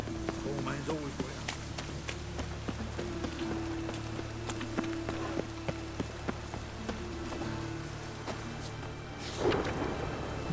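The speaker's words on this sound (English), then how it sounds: "It just rains and rains." Steady rain falls in The Witcher 3 video game, a soft continuous patter with faint drips and a burst of louder noise near the end, while someone speaks over it throughout.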